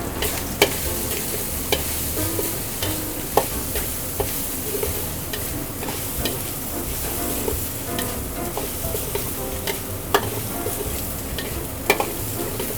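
Garlic and doubanjiang sizzle steadily in a hot pan with frequent sharp clacks of a utensil stirring against the metal, a continuous close frying hiss with no voices, while making chilled soy-milk dandan noodles.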